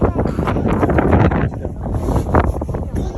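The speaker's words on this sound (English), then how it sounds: "It's getting windy." Strong wind buffets the microphone in a loud, continuous roar that swells and eases on a treetop walkway in the Laurentians, with a voice faintly audible beneath it.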